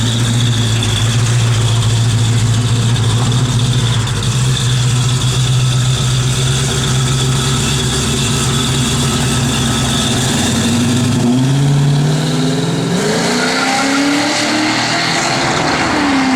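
A 1969 Dodge Dart GT engine idles loud and close with a deep, steady rumble, then revs up and drops back near the end, with no talk over it.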